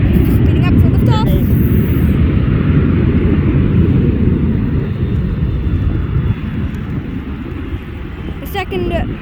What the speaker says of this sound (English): Delta Embraer 175 speeding up for liftoff.